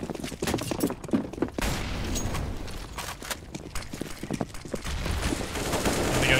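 Rapid gunfire and sharp shot bursts in a Counter-Strike: Global Offensive match, dense and continuous over several seconds with scattered footstep-like clatter, loud and close throughout.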